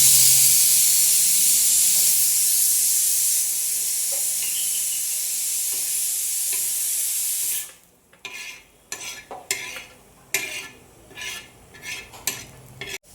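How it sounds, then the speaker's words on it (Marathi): Coriander seeds roasting in a little oil for a Kolhapuri misal paste make a steady loud sizzling hiss, which drops away into intermittent stirring scrapes and small crackles. "हे मिसळीच्या वाटण्यासाठी थोडंसं तेल घालून परतूया."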